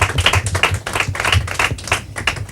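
Audience clapping for the second-place team at a Portuguese quiz competition, with close, distinct individual claps in a quick, uneven rhythm lasting a couple of seconds.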